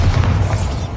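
Explosive blast of the Bombarda spell in the video game Hogwarts Legacy, a loud booming low rumble sustained through the whole second with crackling debris above it.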